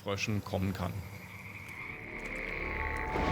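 Frogs croak in a dense chorus, a steady trilling drone that swells toward the end, while a voice speaks over its opening moments.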